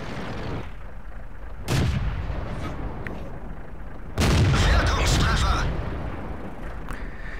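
Two heavy booming tank-gun impacts in World of Tanks gameplay, a Jagdpanther tank destroyer in battle, the second louder and longer, over a steady rumbling game background.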